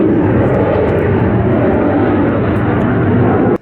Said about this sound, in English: Excuse the jet. Live next to the Air Force Base.